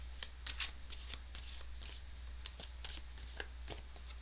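Tarot cards being shuffled by hand, a quick run of soft riffling snaps and papery slides close by, with a few sharper flicks early on and no talking.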